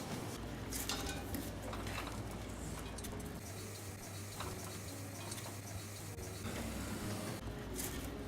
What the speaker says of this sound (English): So in go the vegetables.